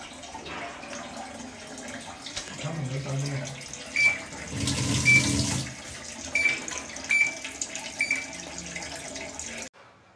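Tap water runs steadily in a home sink, a moderate continuous splash with a brief louder gush midway and faint background sounds.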